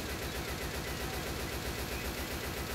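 Rapid gunfire in the zombie shooter Left 4 Dead 2, a dense run of repeated shots fired in quick succession, loud and continuous across a few seconds.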